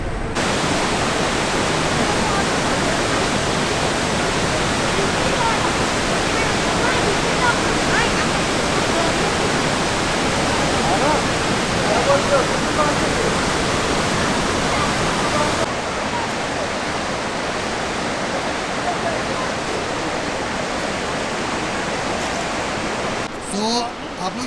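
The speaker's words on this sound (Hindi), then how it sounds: "इधर से ये सरस्वती नदी आ रही है" The Saraswati river at Mana village roars as a steady, loud, broadband rush of fast-flowing water, continuous throughout and dominating the scene, with no break in the torrent.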